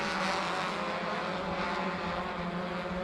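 Race cars roar through turn 5 at Sebring in a steady, loud, continuous engine drone that stays close and even for the whole stretch, with no voices over it.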